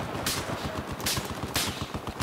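Gunfire from a rifle in Battlefield 4 crackles in rapid automatic bursts, with three dense volleys close together over continuous game noise and no voice.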